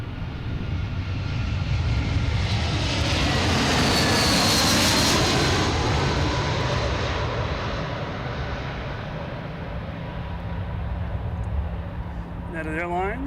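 United Airlines Airbus A319 jet from Newark roaring loudly and steadily as it passes close by, its engine noise swelling to a peak midway and then easing off slightly, with a voice speaking faintly underneath.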